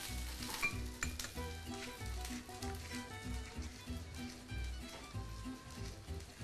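Ingredients stirred in olive oil in a pan while making a sucuk and halloumi arugula salad, giving a steady broad sizzle with scattered utensil scrapes and clinks throughout, close and moderately loud with no talking.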